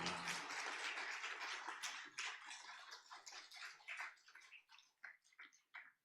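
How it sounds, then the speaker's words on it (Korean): Church congregation at an ordination service in Pyeongtaek giving warm applause, dense and loud at first, then thinning into scattered individual claps toward the end. "우리 뜨겁게 박수하시겠습니다."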